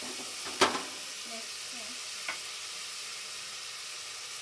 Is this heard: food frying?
yes